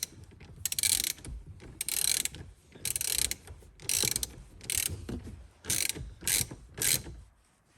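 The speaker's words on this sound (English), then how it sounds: "I'm gonna take my 10mm again. Tighten that nut on top of the battery terminal." Repeated bursts of ratcheting clicks from a 10mm ratchet tightening the nut on a car battery terminal, several short quick strokes with brief pauses between, close and clear with no talking.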